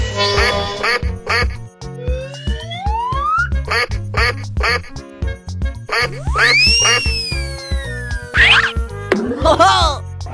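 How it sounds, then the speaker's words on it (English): A cartoon-style duck quacks in short repeated bursts among bright musical stings, boings and a sliding whistle in a lively animal guessing game; the sounds are loud and close with no talk. "duck,"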